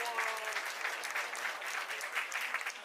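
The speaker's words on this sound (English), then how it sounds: "Give a round of applause, your 69 kilo ladies." Audience applause for the women's 69 kg weightlifting winners at a British Open competition, a steady wash of many hands clapping at moderate loudness for about three seconds, with faint voices mixed in.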